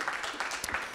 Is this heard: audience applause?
yes